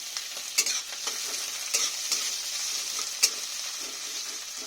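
Chopped onion, garlic and ginger fry in a pan with a steady bright sizzle, with scattered soft scraping stir strokes near and moderately loud, and no talk.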